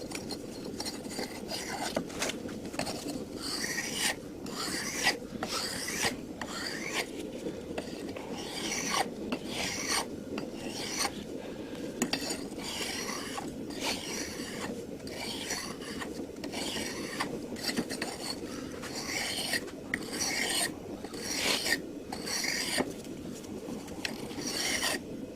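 A hand file is drawn repeatedly across the edge of a herb chopper knife blade to take off burrs. Close, rhythmic rasping strokes repeat steadily throughout.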